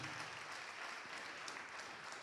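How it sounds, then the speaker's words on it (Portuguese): A church congregation applauds in praise, a dense steady wash of clapping held at a distance, fairly soft and without clear voices. "Vamos aplaudir mais ao nome de Jesus"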